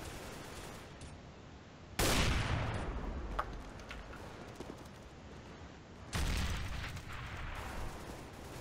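Gunfire and grenade blasts from Counter-Strike: Global Offensive, two loud bursts of booming, crackling explosive noise at two and six seconds over a steady background of shots and game ambience.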